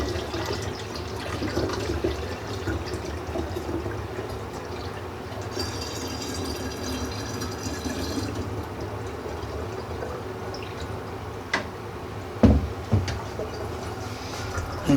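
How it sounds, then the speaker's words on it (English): Filtered water for homemade ginger beer pours into a jug in a continuous, steady stream with a filling gurgle, followed by a few brief knocks and splashes near the end. "I have another 4 cups of filtered water, which is also going to go into the jug."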